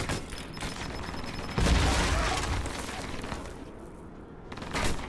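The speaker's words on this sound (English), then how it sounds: "Whoops, grenade." A grenade blast in the video game Alpha Protocol lands amid a dense, continuous gunfight, giving a loud low boom that swells out of the steady rattle of gunfire.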